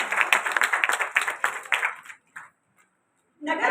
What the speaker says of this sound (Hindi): सभी जोरदार तालियों से आपका स्वागत कराएं।